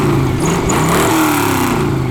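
Cizeta-Moroder V16T prototype V16 engine revving steadily at moderate RPM, a loud continuous mechanical drone with slight pitch rise and fall, close by and alone.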